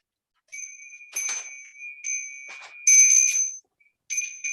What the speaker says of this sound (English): And I have a little bell I use just for this.